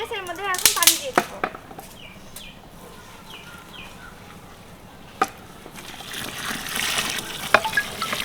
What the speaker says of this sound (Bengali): এর মধ্যে এখন পানি দিয়ে দেব।